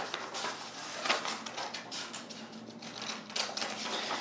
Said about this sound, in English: Now, let's cut out our pattern piece.